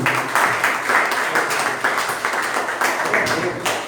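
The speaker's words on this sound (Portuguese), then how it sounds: "E as palmas lá para o Senhor Jesus, que Ele é digno." A church vigil congregation claps together in a steady rhythm, loud and sustained throughout, with some voices mixed in.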